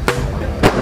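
Two sharp, loud firecracker bangs about half a second apart, each a sudden broadband burst over a steady background of low noise.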